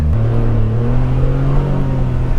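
A Polaris Ranger 1500 side-by-side accelerates hard in sport mode, its engine note rising loud and close in a steady rev with no talking.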